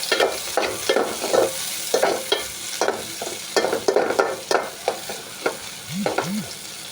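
Onions and green chillies stir-fried in a pan for a fish curry, a steady sizzle broken by regular scraping spatula strokes, close and fairly loud, with no talking.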